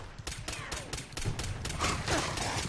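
Rapid gunfire from a Fallout 4 firefight as the player guns down an enemy, a fast string of loud, evenly spaced shots cracking over a low game background for nearly three seconds.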